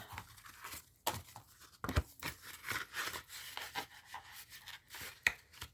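Paper cash bills being handled and stuffed into savings envelopes: soft rustles, rubs and crinkles close to the microphone, irregular and fairly quiet, with a couple of sharper paper snaps.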